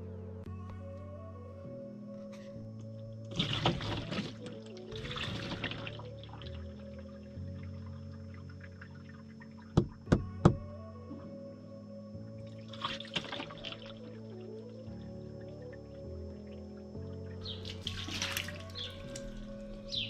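Water streaming and dripping off a car window treated with a rain-repellent coating, soft trickling and running sounds with a few sharp drips and splashes, no talking.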